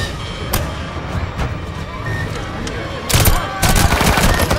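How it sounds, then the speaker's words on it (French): Gunfire from the action film Expendables 3 crackles in sharp scattered shots that build into dense, loud bursts of rapid fire toward the end, mixed with movie soundtrack noise. "Ça tire dans tous les sens."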